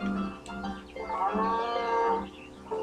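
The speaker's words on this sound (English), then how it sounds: "Oh, such a good cow." A cow moos in the farming video game Harvest Moon A Wonderful Life, a single long, loud, tonal low that rises and falls over a couple of seconds, heard alone without talk.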